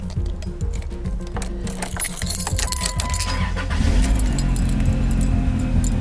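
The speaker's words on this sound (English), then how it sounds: "let's start the car" Keys jangle and clink in a 2005 Chrysler Sebring with a camshaft sensor fault, then the engine cranks and catches, settling into a steady close idle.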